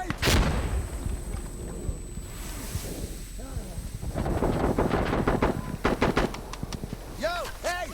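Grenade blast and gunfire in the shooter game Insurgency: Sandstorm, a loud burst followed by wind-like rumble and rapid shots near the end, with voices shouting over the action.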